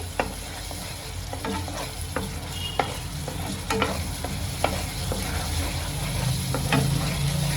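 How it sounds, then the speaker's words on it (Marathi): Paneer masala base sizzles in oil over a low flame while a spoon scrapes and stirs it, producing a constant frying hiss with irregular clicks and scrapes, close and with no voices. "हे बघा एकदम स्लो गॅसवर मी याला चांगलं परतून घेते"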